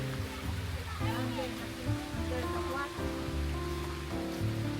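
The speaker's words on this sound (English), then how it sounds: "oh, it's raining. Do you hear that?" Steady rain hisses throughout at the Ham House gardens in Richmond, London, heard from under shelter beneath continuous talking and other background sound.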